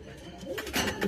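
Domestic pigeon cooing at a Valencian pigeon fancier's loft, a soft low rolling coo rising toward the end of the clip, close by with faint background noise.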